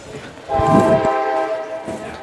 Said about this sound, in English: Well, as the train goes through